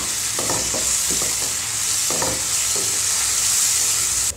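Tomatoes frying in a pan with coriander, chilli and turmeric powders, giving a loud continuous sizzle with a few stirring scrapes and clinks, close up, no voices.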